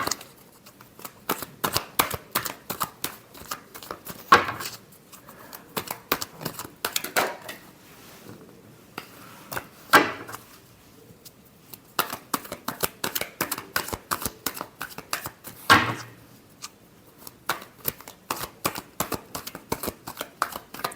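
Tarot cards shuffled by hand, a fast run of crisp riffling flicks and slaps in repeated bursts with short pauses, close and clear with no talking.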